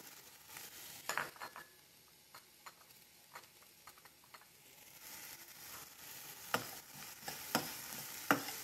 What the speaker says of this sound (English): As the onion is getting fried, I'll also put the cashew nuts and pista that I kept it ready.